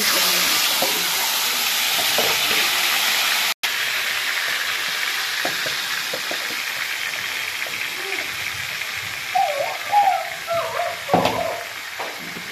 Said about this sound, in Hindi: उसके बाद जो ये मैरिनेट होने के लिए रखा था हमने चिकन, इसको इसमें ऐड करते हैं।